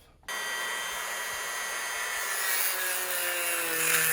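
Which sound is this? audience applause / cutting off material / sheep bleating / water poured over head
cutting off material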